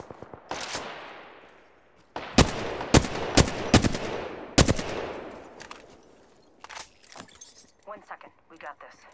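Apex Legends weapon fire: sharp loud gunshots in a quick volley after an early single shot, then scattered quieter clicks and rattles, with voices talking over the action.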